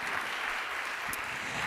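Audience applause at a talk, a faint, steady wash of clapping from a seated crowd heard from a distance, lasting under two seconds with no voices.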